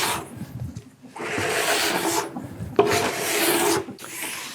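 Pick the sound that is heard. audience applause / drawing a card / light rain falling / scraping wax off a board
scraping wax off a board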